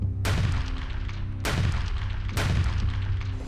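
Three loud gunshot effects ring out one after another, each with a sharp crack and decaying echo, over a sustained low musical drone.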